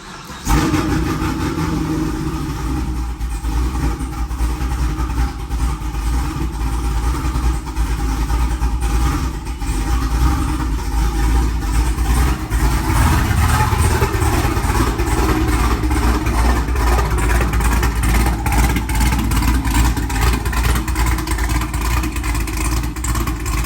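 A 5th-generation Chevrolet Camaro with a manual clutch runs loud and close, its engine holding a deep, steady rumble with slight fluctuations for over twenty seconds, with no voices.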